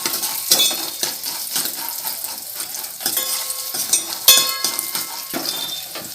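Dried sundakkai berries fry in sesame oil with a close, crackling sizzle, punctuated by frequent scrapes and clinks of a metal spoon stirring against the pan, no voices present.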